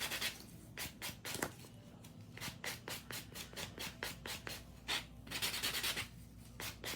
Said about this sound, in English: I'm gonna use a nice 100 grit, and I'm gonna just give it a good buff